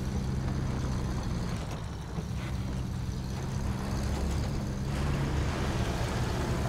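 A powerful truck engine in SnowRunner, a steady low rumble with a loud, continuous drone and slight swells in revving, close and without speech.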